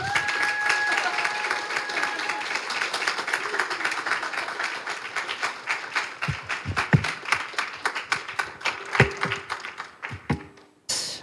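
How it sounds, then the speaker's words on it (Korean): A church congregation at a Sunday morning service claps together, starting as a full round of applause and thinning into scattered individual claps before stopping. "우리 박수 한번."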